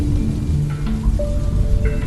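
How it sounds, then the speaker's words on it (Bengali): Steady rain pours down in a horror audio story, a dense continuous wash of falling water with faint tonal accents drifting through, loud and close, with no voices. "অমনি মেঘ ভেঙে বৃষ্টি নামল।"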